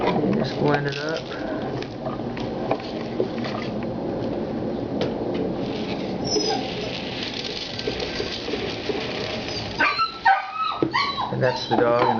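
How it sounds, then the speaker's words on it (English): A dog barks and whimpers in the background of a home kitchen, yips and whines coming through alongside steady household noise and a few louder bursts near the end. "And that's the dog in the background."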